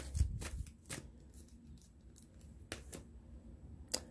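A tarot card is drawn and handled during a reading, giving a few soft, close papery flicks and slides in short separate bursts over a quiet background.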